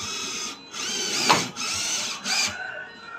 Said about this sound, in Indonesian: kita coba bor kita lihat dulu